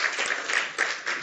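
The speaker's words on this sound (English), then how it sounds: "There is applause from the room." Applause from a conference room audience, a brief burst of dense clapping that swells and fades in a few quick waves, fairly close and loud with no talking over it.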